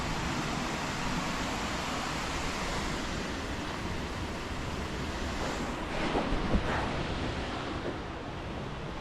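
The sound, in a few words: river flowing at Horrabridge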